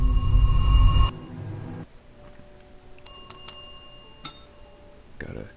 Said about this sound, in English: Gotta tap the desk bell there.